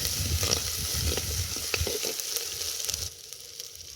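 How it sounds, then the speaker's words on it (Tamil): Ginger garlic paste sautéing with onions in oil for mutton kuzhambu, a steady close sizzle with stirring scrapes that drops away abruptly near the end, no talk. "இது வெங்காயத்தோடு சேர்த்து வதக்கினா தான் அது இந்த பச்சை வாசம் போகும்"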